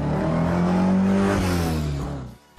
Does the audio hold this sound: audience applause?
no